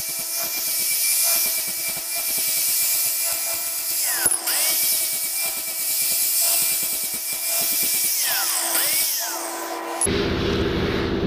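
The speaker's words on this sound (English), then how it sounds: "Now we change up to the flapper wheel." A flap wheel on a grinder deburrs the edges of metal fabrication pieces and strips some paint, a steady loud whine with brief dips and pitch sweeps as it bites, then winding down near the end.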